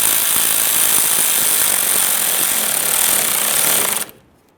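A power tool tightening a tie rod on a 1994-2001 Dodge Ram 1500, a loud, steady, rapid hammering buzz held for about four seconds before it cuts off abruptly.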